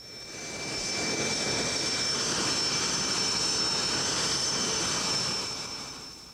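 A Lockheed F-117A stealth jet, built by the Skunk Works, roars steadily as a loud, sustained engine rumble that swells in and fades out slightly at the ends, alone with no talk.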